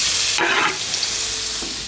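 Onions hit hot canola oil in a pan with a loud, close hiss that swells sharply as they land, then settles into a steady sizzle with a brief stir.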